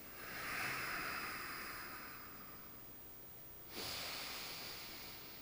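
Slow, audible breaths during a yoga hip stretch: a long soft exhale, a quieter pause, then another breath starting, all close and faint with no talking.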